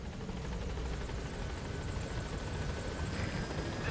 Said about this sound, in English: So let's call in a chopper, go into that helicopter.